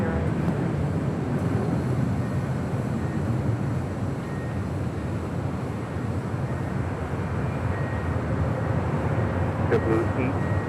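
Alaska Airlines jet taking off from runway 25 right at Los Angeles International Airport: a loud, steady engine roar holding throughout, with speech over it.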